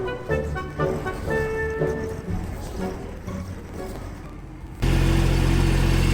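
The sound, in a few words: Mahindra Emax compact tractor working its bucket in dirt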